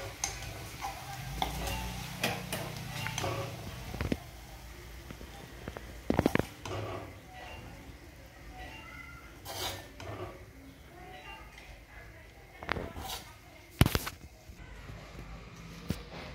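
Cooked fenugreek, cauliflower and potato vegetable dish being served from a pan onto a plate, with soft scraping and clinking of a spoon against metal and occasional sharp taps, close and fairly quiet over steady background hum.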